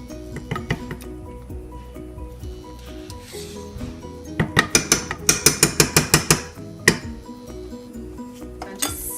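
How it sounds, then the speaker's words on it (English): Quark is stirred into chicken pot pie filling in a pot, with a run of about ten rhythmic scraping knocks of a spoon against the pan in the middle, close and fairly loud over low background hum. "Stirring in the quark now, that just makes it really lovely and thick and creamy."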